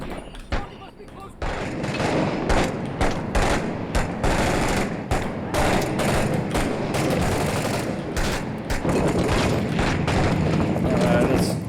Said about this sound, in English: That sounds like I'm hearing mortars. Yes, that's definitely mortars.